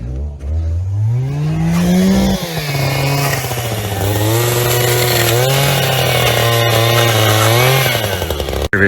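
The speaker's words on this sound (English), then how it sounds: "Is chainsaw scary?" A chainsaw engine runs loudly and steadily, its pitch rising and falling as the throttle is revved, close by.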